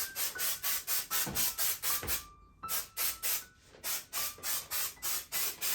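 A can of artificial snow spray used for Christmas decorating lets out rapid, evenly spaced hissing bursts close by, with one brief pause partway through.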